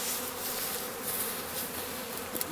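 Honey bees hum around a hived swarm trap, a steady dense buzz of many insects close by with no talk.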